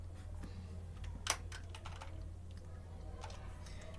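Fingers tapping a computer keyboard to enter a Linux command, quick irregular clicks with one sharper keystroke, faint and close against a low steady electrical hum.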